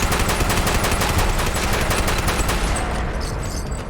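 A hand-cranked Peppermill Crank Gun in a Fallout 4 game fires a fast, loud, continuous burst of rapid shots for several seconds that tapers slightly at the end.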